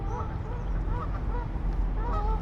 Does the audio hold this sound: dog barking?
no